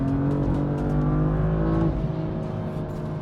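A BMW M4 engine revs loudly and holds high revs, a steady buzzing roar close by without shifting, easing slightly toward the end.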